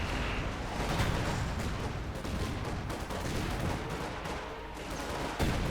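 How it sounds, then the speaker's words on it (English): A dense wartime battle in the Company of Heroes 2 strategy game, with constant crackling gunfire and grenade bursts layered into a loud, unbroken roar of combat. "Grenades going left and right."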